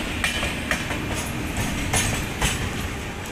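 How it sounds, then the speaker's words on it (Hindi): A local train runs past on a parallel track at an Indian railway station approach, heard from aboard an express train as a continuous broadband rumble with rhythmic wheel clatter and a few sharper clanks. "उधर एक सामने आगे से एक लोकल ट्रेन भी जा रही है"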